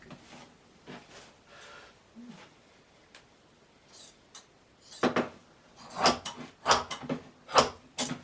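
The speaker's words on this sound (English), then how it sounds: "Let's get my carpet shears and slice through it." Carpet shears snip through thick toweling, giving a few faint scattered cuts at first and then a quicker run of louder, crisp snipping clicks near the end.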